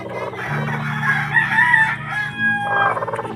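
A rooster crows loudly and close by, a long drawn-out call over steady low background noise.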